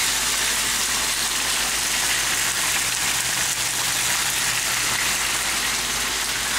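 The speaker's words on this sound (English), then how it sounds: "Ooh, listen to that sizzle." Loud, dense sizzling of chicken frying in hot oil, a constant hissing crackle close by with no pauses.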